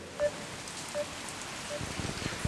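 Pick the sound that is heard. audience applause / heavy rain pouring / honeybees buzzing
heavy rain pouring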